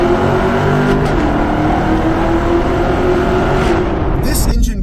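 A Chevrolet Camaro SS V8 engine revs hard through the gears inside a tunnel, a loud, steady roar that carries throughout and eases off near the end.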